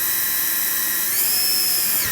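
A drill boring a 5 to 8 mm hole through the plastic wheel-arch liner of a Tesla Model 3, a steady high-pitched whine that rises slightly partway through, close and continuous with no talking.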